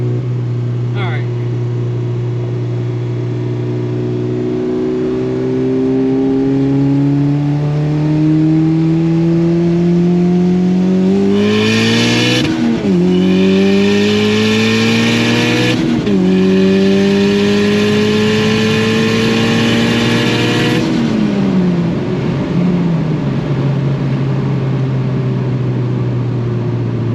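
A turbocharged 9th-generation Honda Civic Si with a budget eBay turbo accelerates on a hot day, engine pitch climbing through several gears with shift breaks and turbo whoosh, loud and close, with a voice talking over it.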